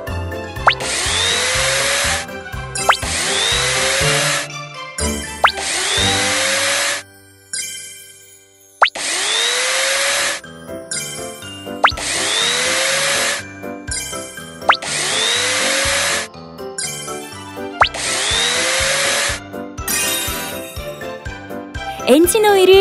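Screw-tightening sound effects in a Pororo engine repair video game: bright repeated mechanical whirs and chiming tones come in a regular series of bursts, loud and close, with short gaps between.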